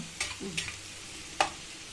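Onions frying gently in oil in a pan for a dhaba-style egg curry, with a low soft sizzle under three brief scraping stir strokes, close and fairly quiet.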